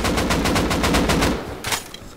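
Rapid automatic AK rifle fire in a multiplayer shooter video game, a loud burst of evenly spaced shots for over a second, then a few scattered distant shots.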